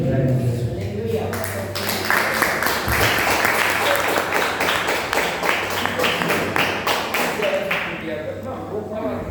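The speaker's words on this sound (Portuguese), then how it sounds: "E as palmas louvam a Deus" Church congregation clapping in praise to God, a loud, dense burst of many hands sustained for several seconds, with steady low hum and a voice faintly underneath.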